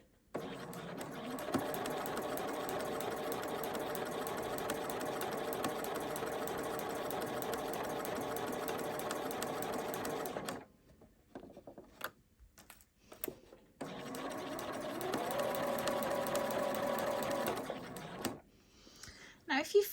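A sewing machine stitching a curved seam whirs steadily and close for about ten seconds, stops briefly amid small handling clicks, then runs again in a second shorter burst.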